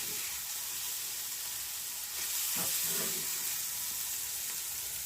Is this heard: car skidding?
no